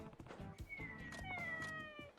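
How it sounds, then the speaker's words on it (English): Cat meowing in the video game Like a Dragon: Ishin, a drawn-out plaintive meow with a rising then falling tone over a soft game background, close and clear. "Dang. Friggin' cat."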